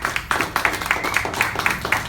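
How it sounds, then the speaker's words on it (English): An audience applauding for veterans at a McDonald's support event in San Antonio, a short burst of rhythmic clapping that sounds close and fairly loud, with no talk over it. "let's give them a round of applause"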